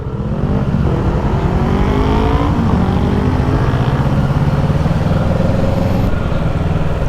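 Car engine droning steadily from inside a vehicle stuck in a traffic jam in Bucharest during a protest, with a continuous low rumble and faint shifts of revving from nearby traffic.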